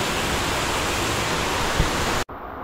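Dense, steady rush of Cotmon Twin Falls waterfall in Bato, Camarines Sur, loud and close, cutting off abruptly near the end.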